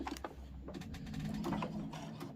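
A sewing machine top stitches a fabric tray made from layer cake 10 inch quilting squares about 1/8 inch from the edge, giving a steady, close mechanical whirr and clatter throughout with no talking.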